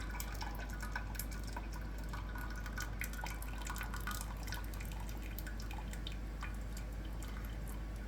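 Steady trickling and dripping water as it drains through the holes of a canning pan, close and continuous, with scattered small drips over a running flow and no voices.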